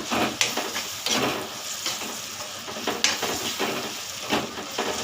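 Crab curry with ginger garlic paste being stirred in a hot pan, a close, steady sizzle broken by repeated spoon scrapes every second or so, with no talking.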